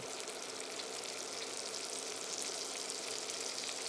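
Steak sizzling steadily in a hot pan while being basted, a dense, continuous hiss and crackle with no talk over it.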